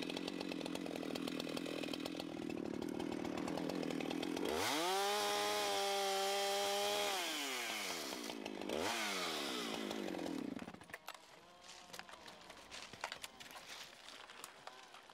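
A chainsaw trims whiskers from a tree stump during undercut tree-falling work, revving loud and close with rising and falling engine pitch as it cuts, then dropping to a rough idle.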